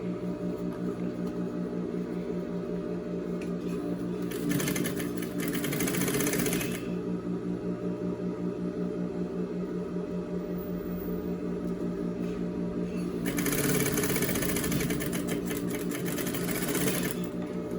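A sewing machine stitches camouflage fabric for a cargo-pocket A-line skirt, a constant close mechanical whir with two louder bursts of rapid needle chatter, alone without talk.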